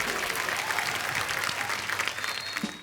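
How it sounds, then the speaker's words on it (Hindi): A studio audience at a comedy talk show claps loudly and steadily, a thick wash of applause with light crowd noise that tapers slightly toward the end. "जोरदार तालियां सिम्बा के लिए"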